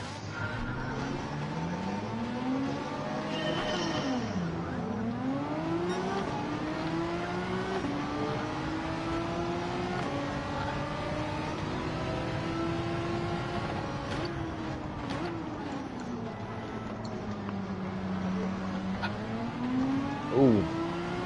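A Ferrari engine revs in a racing video game at the Nürburgring, rising and falling through gear changes in a steady drone, with a faint swell of other cars.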